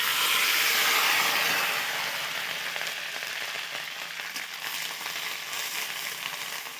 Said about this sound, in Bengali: তো পেঁয়াজ, আদা, রসুনটাকে খুব ভালো করে ভেজে নেব, যাতে এদের কাঁচা গন্ধ চলে যায়।